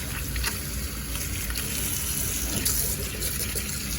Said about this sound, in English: So we're just gonna fill that with water.